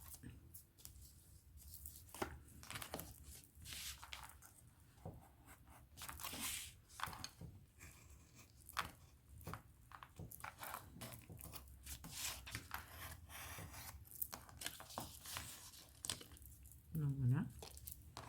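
Scissors snip and paper crinkles while cutting patterned paper for a Christmas snow-globe scrapbook photo album, with soft, irregular close-up cuts and rustles between a woman's quiet speech.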